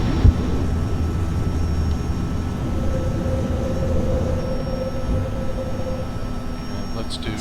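Airliner jet engines at climb thrust on a JARDesign A320 in X-Plane 10, a steady broad roar holding throughout with a faint tonal whine rising mid-clip, voices speaking over it.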